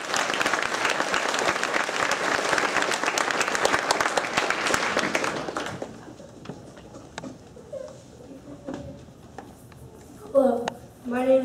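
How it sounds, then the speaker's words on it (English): Audience applause fills a school's sixth grade ceremony for about six seconds, dense and fairly close, then fades into quieter room noise with a few scattered sounds and brief voices at the end. "Let's give him a round of applause."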